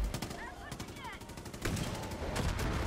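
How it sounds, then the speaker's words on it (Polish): Rocket launcher and gunfire in the Far Cry 5 video game on PC during an outpost fight, sharp loud blasts and rapid shots in quick succession, up close and dense. "Jednym strzałem wyrzutni."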